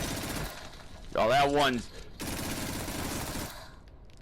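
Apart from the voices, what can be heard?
gunfire against spiders from a video game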